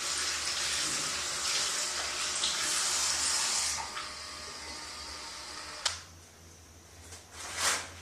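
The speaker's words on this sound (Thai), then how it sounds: "วิธีของเมย์คือการผ่านน้ำโดยที่ เอามือรองน้ำนะคะ จากนั้น ปั่นลงในน้ำนะคะ" Water runs from a tap over a Kuron makeup brush being rinsed, a steady close splashing rush that stops partway through, followed by quieter handling noises and a brief splash, with no talking.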